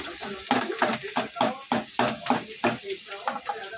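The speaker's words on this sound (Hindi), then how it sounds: "इसमें हम बीन्स को थोड़ा सा भून लूँ" Green beans frying in ghee in a pan, stirred in a quick rhythmic series of scraping, sizzling strokes close up.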